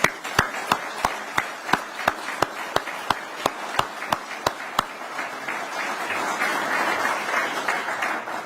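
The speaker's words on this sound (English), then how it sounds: "Give them a round of applause." Applause at a state broadband grant announcement: a run of sharp, evenly spaced loud claps from one nearby person, soon joined by and dissolving into a wider, softer spread of crowd clapping that carries on to the end.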